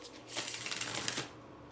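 Tarot cards riffled and shuffled from a deck, a close, crisp burst of papery flutter lasting about a second with a quieter rustle before and after.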